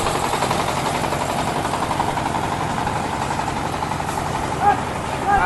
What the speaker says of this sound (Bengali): দেখছেন এখানে ব্যাকআপ জেনারেটর